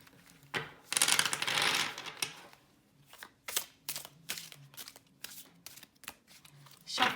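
Someone shuffles a New Era Elements tarot deck, slightly smaller than a standard tarot deck, in several brisk riffling bursts with light card clicks between them, close and fairly quiet.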